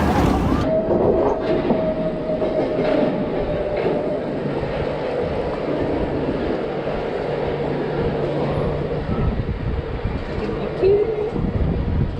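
A Vekoma SLC roller coaster train runs at a theme park with a continuous loud rumbling roar and wind buffeting, recorded close from on board, with voices faintly underneath.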